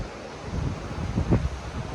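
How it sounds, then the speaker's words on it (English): Wind gusting outdoors in broadband rumbling waves, swelling and easing over a couple of seconds with a stronger gust near the end, no voices. "Man, it's windy out here."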